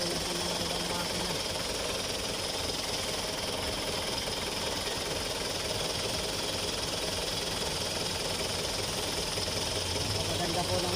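A diesel Isuzu Elf truck engine idles just after a top overhaul, a dense, steady rattling run with knocking texture that holds loud and close throughout without a break.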